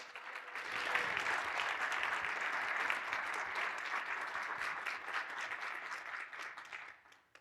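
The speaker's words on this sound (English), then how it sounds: "please a round of applause for our wonderful speaker" An audience at a history forum applauds a speaker's introduction, dense steady clapping from many hands that swells quickly, holds for several seconds and tapers off at the end.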